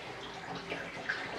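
Water runs steadily in a darkroom while developed photographic film rinses, a constant close wash of flow and splash with no talk.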